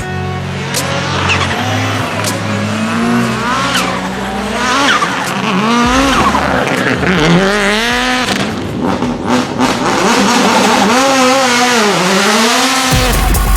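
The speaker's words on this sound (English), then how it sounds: "That's drifting superstar Jin Lu." A drift car slides with loud, continuous tire squeal over a roaring, revving engine, wavering in pitch as it swings through turns, close and intense throughout before cutting off at the end.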